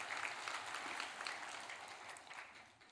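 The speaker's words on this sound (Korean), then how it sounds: "저쪽에 박수 한 번 쳐주시면 좋겠습니다" A church congregation applauds during a Sunday service, the clapping moderately distant and roomy, swelling at first and then gradually tapering off over a few seconds without any speech over it.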